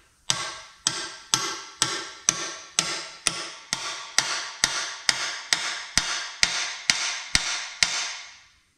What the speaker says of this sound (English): I'm going to use a seal driver.